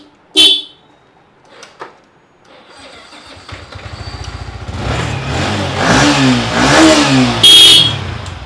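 A Yamaha R15 version 4 motorcycle in blue at a second-hand bike dealer starts with a few sharp blips, then idles and is revved repeatedly, the engine note rising and swelling loud and close.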